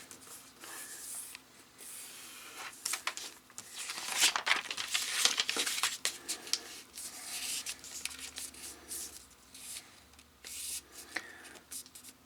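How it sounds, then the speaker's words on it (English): A sheet of paper is folded and creased into an origami glider, giving close crinkling, rubbing and sharp creasing sounds in irregular bursts across the stretch, with no talking. "So you fold the paper down"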